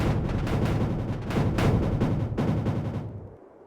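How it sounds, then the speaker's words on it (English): Enemy units in the video game Mindustry firing mortars, a dense run of booming, crackling blasts piling on one another close up and loud, no talk, then cutting off abruptly near the end. "these things really just fire mortars."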